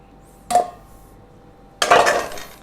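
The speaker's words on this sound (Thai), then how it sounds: "ก็คนให้เขาเข้ากันครับ" A spoon stirs banana cake batter in a bowl, giving two short clinking scrapes against the side separated by a quiet gap.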